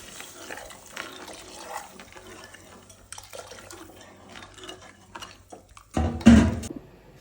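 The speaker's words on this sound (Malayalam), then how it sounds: "ഭക്ഷണത്തിന് ആവശ്യമുള്ള ചൂടുവെള്ളം ഒഴിക്കണം." Hot water poured into a simmering Alappuzha-style tuna fish curry makes a short, loud splashing gush near the end, after several seconds of quiet kitchen clinks and faint stirring.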